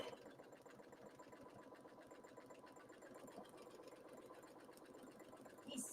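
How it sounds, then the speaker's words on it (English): A Brother BQ 950 sewing machine running steadily, a fast, even mechanical whir with rapid stitching pulses, fairly quiet throughout. "He's sewing on the Brother BQ 950."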